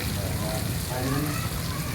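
Heavy storm rain pours down while drains run with rushing water, a dense, loud, continuous wash of splashing and hiss close by, with a voice speaking over it.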